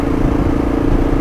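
Muffled motorcycle engine picked up by a microphone inside a rider's helmet, a steady low droning rumble with a faint hum and no gaps, close and continuous throughout.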